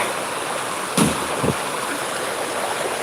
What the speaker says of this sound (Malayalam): നല്ല ലെവലിൽ വെള്ളം ഒഴിഞ്ഞു പോകുന്നുണ്ട്